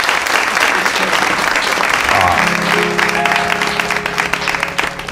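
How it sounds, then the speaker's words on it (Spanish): Brief, modest audience applause on a Spanish comedy talk show, loud clapping that tapers off toward the end while a voice and murmurs come up underneath. "Aplauso tímido"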